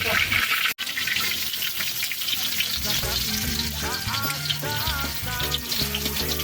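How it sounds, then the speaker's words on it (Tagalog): Fish frying in a home kitchen, a steady crackling sizzle throughout with a brief sharp knock near the start, while a voice talks over it. "at nagpiprito ng isda"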